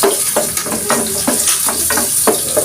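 Onions frying in a pan, a loud, close sizzle with a rapid series of spatula scrapes and stirs, steady throughout, no speech.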